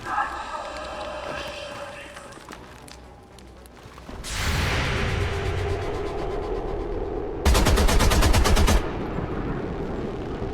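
Gunfire from XCOM 2 rattles in bursts of rapid shots, a long loud volley followed later by a second sharp, dense burst, with game sounds between and a voice talking over parts.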